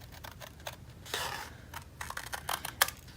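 Scissors snip through paper to cut out a corner during a spring farmhouse paper craft, giving a few soft, close crunching cuts with light rustling and no talk.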